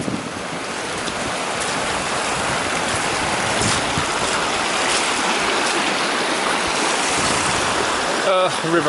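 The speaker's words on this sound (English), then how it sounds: "River crossing." A steady, loud rush of river water flowing over rocks at a hillside crossing in the Torridon hills, a broad continuous roar with wind mixed in, lasting unbroken throughout.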